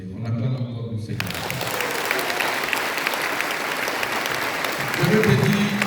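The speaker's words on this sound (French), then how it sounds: "On acclame encore le Seigneur." Church congregation applauding during a Sunday prayer service, dense sustained clapping from a crowd filling the room, with a voice talking over it at the start and again near the end.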